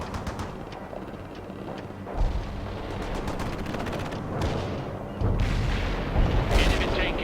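World in Conflict battlefield audio: a steady rumble of gunfire and artillery, punctuated by heavier booms that swell twice, with faint voices.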